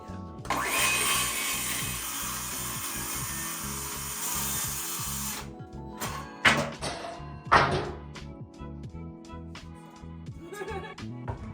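A power saw making the first cut through a plywood sheet, a loud steady cutting roar lasting several seconds, then stops, followed by wood knocks, thumps and handling clatter close by.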